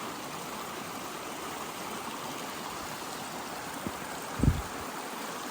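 Storm runoff water flows steadily into a freshly excavated pond ditch, a broad continuous rushing and trickling wash with a couple of brief low thumps near the end.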